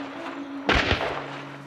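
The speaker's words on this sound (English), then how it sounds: "Gunshots were ringing in Elija's ears" Gunfire in the video game Hunt: Showdown: two sharp shots in quick succession cut through a quiet, humming background.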